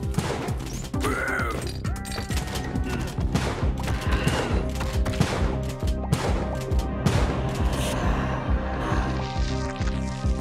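Shotgun blasts in the platformer Spelunky 2 go off repeatedly in a dense, loud barrage of sharp cracks and crashes. Busy game music and effects fill the background throughout.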